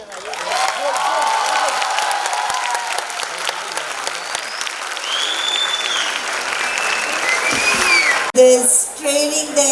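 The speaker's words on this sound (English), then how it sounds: "Please keep on clapping for them" An audience at a junior college's silver jubilee celebration claps for a children's performance, giving loud, sustained applause that runs steadily throughout and then cuts off abruptly near the end.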